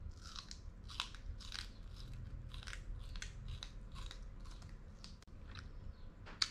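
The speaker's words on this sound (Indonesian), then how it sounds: "makannya digrogotin pakai gigi untuk motong ini pinggirnya" Teeth gnaw the tough edge of an exotic fruit in a series of about a dozen close, crisp crunching bites in a steady rhythm, with nobody talking.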